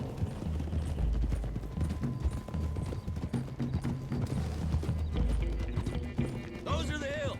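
Horses gallop in the Red Dead Redemption 2 video game, their rhythmic hoofbeats thudding steadily through the clip under a loud, busy mix that includes voices talking.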